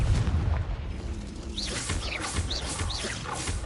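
Confringo fire spell blast in Hogwarts Legacy, a muffled boom with crackling bursts and short whooshing sweeps over a rumbling game background, with no voices.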